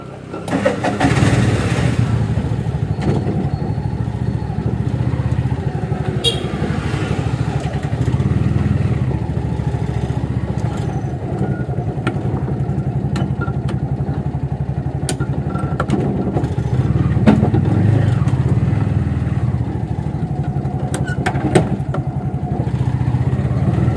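A CNG auto rickshaw engine starts and keeps running as the rickshaw drives off, a loud, steady engine chug with a few thumps, continuous and close throughout.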